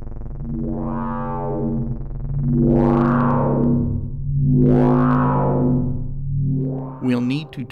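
A modular synth drone built in VCV Rack with delay and envelopes swells in four slow, loud rising-and-falling waves, thick and buzzy with clipping distortion on each peak.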